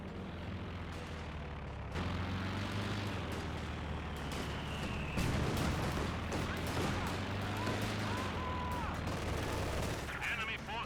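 Distant gunfire and explosions from units battling in the Company of Heroes 2 strategy game: scattered shots and blasts over a steady low rumble, with a commentator talking throughout.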